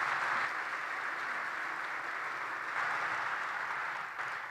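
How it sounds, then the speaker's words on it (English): A warm round of applause rises from the audience at a foundation day ceremony honoring a guest, a continuous wash of many clapping hands, moderately distant and even, tapering near the end. "Please join me in extending a warm round of applause as we honor his"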